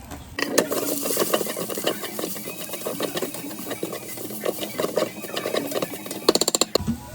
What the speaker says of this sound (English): I'm gonna let that saute for a little bit